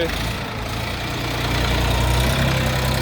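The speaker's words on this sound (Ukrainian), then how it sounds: "Трьохциліндровий. КМовський мотор КМ385." A Bulat 244 tractor's three-cylinder KM385 engine idles steadily nearby, a continuous low rumbling chug with a slight rise in loudness partway through.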